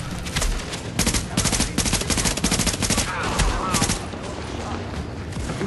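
Rapid bursts of automatic gunfire from The Division video game crackle in dense volleys throughout, loud and close, with a player's voice talking over the shooting.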